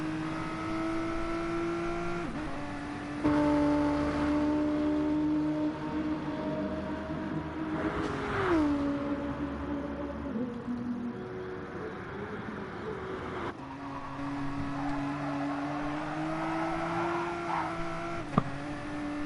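Race cars circling Bathurst in a sim racing game, engine tones droning steadily with rising and falling pitch as they accelerate and shift, a continuous mid-level mechanical hum throughout.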